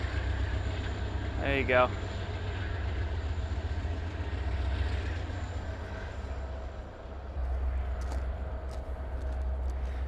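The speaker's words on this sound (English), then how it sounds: "There's currently a train going by somewhere." Train passing somewhere out of sight near a scrap yard, a steady low rumble of rail traffic with a brief squeal partway through and some light clicks later, distant and continuous beneath short talk.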